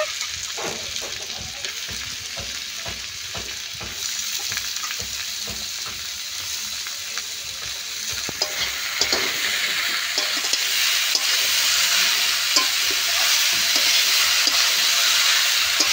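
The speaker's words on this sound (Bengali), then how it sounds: "আলু আর থোড় বেশ ভালো করে কষে নেব" Potato pieces and chopped banana stem fry in a pan with a bright, continuous sizzle, broken up by stirring scrapes and clicks, close and steady with no talking.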